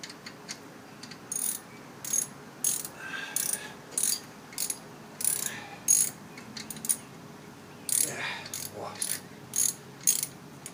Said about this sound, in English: taking my ratchet, I'm going to lock it down.